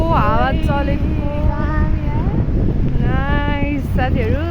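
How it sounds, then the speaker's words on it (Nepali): Wind rushes steadily past the microphone while on a journey, a loud, constant blustery roar, and voices talk over it through most of the stretch. "ओहो हावा चलेको"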